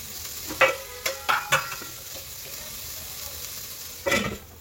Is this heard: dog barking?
no